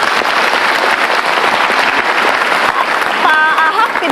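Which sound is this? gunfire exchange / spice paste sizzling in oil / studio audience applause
studio audience applause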